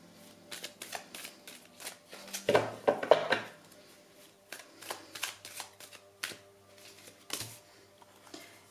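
Oracle cards shuffled by hand for a love tarot reading, giving soft riffling and slapping bursts in irregular clusters, with a denser flurry near the middle, close and fairly quiet with no talking.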